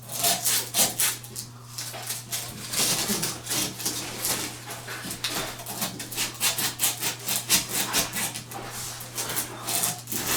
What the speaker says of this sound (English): Usually carry a strip of sandpaper with me.